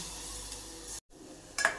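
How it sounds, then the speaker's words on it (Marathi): Spices for a paya mutton rassa tempering are tossed into hot oil and give a short burst of close sizzling hiss. The sound cuts out abruptly, returns quieter, and ends with a brief metallic clink. "गॅस मोठा करून आपण आता ही फोडणी द्यायची"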